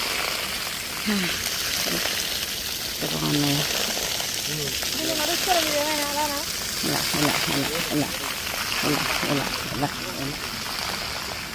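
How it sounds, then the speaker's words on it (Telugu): Splashing fountain water at Dubai Creek Harbour makes a constant rushing wash in the background while people talk close by over it. "వాటర్ శబ్దం ఇక్కడ వినిపిస్తుంటే హాయిగా ఉంది"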